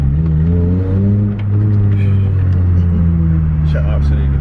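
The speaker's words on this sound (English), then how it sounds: "these downshifts, it sounds so..." Honda Civic EP3 Type R engine on downshifts, a loud droning rumble with rising and falling rev tones, heard from inside the car with a voice talking over it.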